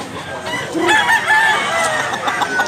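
A sweater-bloodline gamefowl rooster crows close by in Cebu, one drawn-out crow rising over a noisy yard background with no clear talk.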